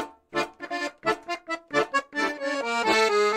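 Accordion plays a punchy tango phrase of short, accented chords in a clipped rhythm, then settles into longer sustained notes.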